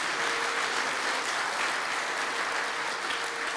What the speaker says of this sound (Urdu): ایمان رکھتے ہیں تو زوردار تالیاں خدا کے لیے بجائیں.